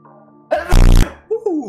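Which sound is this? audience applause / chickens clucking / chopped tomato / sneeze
sneeze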